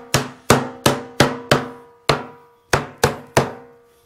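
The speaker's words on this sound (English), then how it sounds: "I'm going to take advantage of this hammer." Hammer blows knock a metal hoop down onto a wooden wine barrel used for red wine fermentation, nine sharp, ringing strikes in a steady rhythm with a short pause midway, loud and close with no talking.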